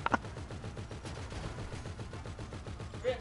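Rapid automatic gunfire in the online video game GTA 5 on PS4, a continuous burst of quick repeating shots with a couple of louder cracks at the start, moderately loud, no talking.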